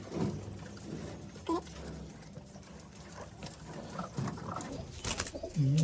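Soft pigeon coos rise and fall nearby at a cage among fluttering and shuffling sounds, with a louder, closer coo near the end.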